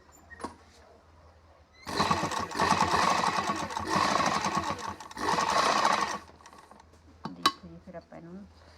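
A sewing machine runs in bursts while stitching a salwar seam, with an angled seam being sewn on the garment. It whirs in about three sustained runs, loud and close, with short pauses between them and light handling noises afterward.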